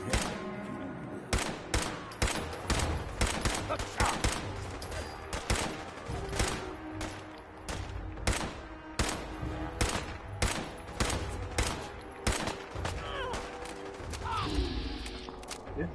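Gunfire in Fallout 4 cracks out in repeated sharp shots, some in quick bursts and others spaced apart, loud over a rumbling background, with clanking mechanical noises between volleys.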